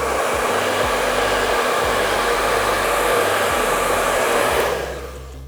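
A hair dryer blows steadily on watercolor paint, a loud, continuous airy whoosh with a faint motor hum underneath. It runs unbroken, then its pitch and loudness drop near the end as it switches off.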